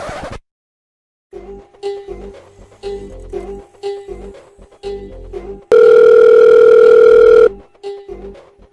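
A repeating telephone ringback tone pulses in steady bursts, followed by a long loud continuous beep, then the ringing pattern resumes.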